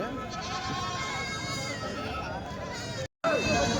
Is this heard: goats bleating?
yes